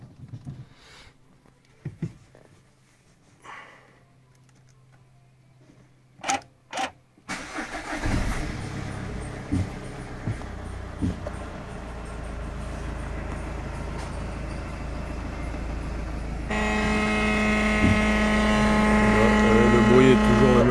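A Peugeot 508 engine cranks and catches after a quiet stretch with faint handling noises, then settles into a steady idle that grows louder and fuller near the end.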